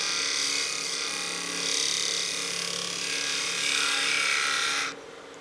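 A wood lathe gouge cuts a turned wooden wine glass with too much bevel contact, producing a steady close rasping hiss that rises and falls slightly before stopping abruptly near the end.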